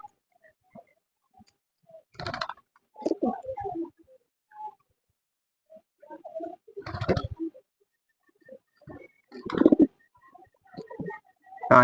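Lakka pigeons coo in soft, low, rounded bursts with pauses in between, some calls stronger and closer than others, in a quiet setting with faint clicks.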